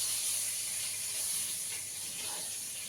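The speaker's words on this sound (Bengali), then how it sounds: "বেগুনগুলোকে আগে একটু ভেজে নিলাম।" Eggplant pieces frying in a pan give off a steady, close hiss and sizzle that holds at an even level the whole time, with no voices.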